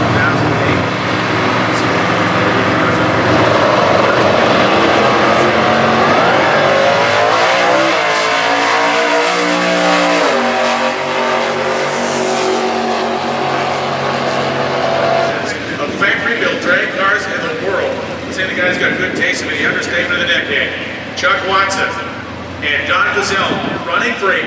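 Ford Cobra Jet Mustang drag race cars run in stock class eliminations at Indy, their engines roaring loud and steady and rising in pitch as they accelerate, while a commentator talks over them throughout.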